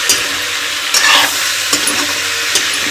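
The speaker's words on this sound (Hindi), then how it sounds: "मेथी पत्ती प्याज के फोरन देवा है" Fenugreek leaves and onion sizzle loudly in hot oil as a tempering, a bright, close, crackling fry punctuated by a few stirring clacks.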